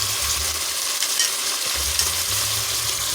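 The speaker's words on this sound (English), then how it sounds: "all we're going to do is let our beef cubes brown" Beef stew cubes browning in a hot pan, a loud steady close sizzle with faint low stirring rumbles, no voices.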